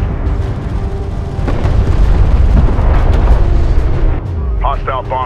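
Explosions rumble through a space-strategy battle in Homeworld: Deserts of Kharak as a hostile bomber is destroyed, a loud, continuous booming wash with sharp blasts over a low roar, and a brief radio-style voice near the end.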